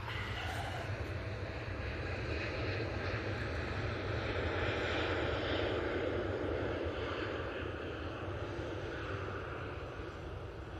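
A jet airliner on landing approach at Manchester, a continuous heavy engine roar with low rumble and broad hiss, steady and fairly near, fading slightly at the end.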